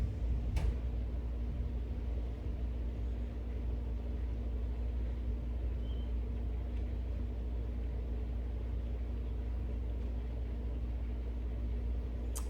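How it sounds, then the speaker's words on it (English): Distant thunder rolls low and steady through a thunderstorm, a continuous deep rumble with no sharp cracks, heard from indoors. "And there's the thunder."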